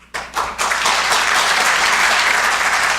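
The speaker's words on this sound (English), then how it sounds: "Big round of applause for them." Applause bursts out at the 2013 EMDA awards ceremony in Toronto, starting with a few claps and swelling within half a second into loud, sustained clapping from a large audience.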